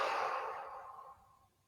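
One long, relaxed exhale through the mouth, close and soft, fading gradually over under two seconds during a seaside relaxation session.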